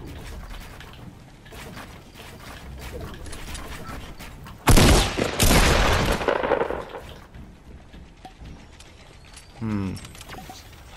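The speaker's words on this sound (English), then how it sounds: "Hij no-scoped ons serieus met die hunting rifle" A hunting rifle in the Fortnite battle royale game fires a loud, sharp blast with a lingering echoing tail midway, amid mechanical clicks, rattles and building noises, then a shorter burst near the end.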